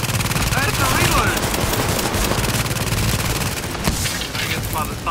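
Rapid, dense automatic gunfire from The Division during the co-op Madison Field Hospital mission, sustained and loud across the whole stretch with overlapping bursts and booms.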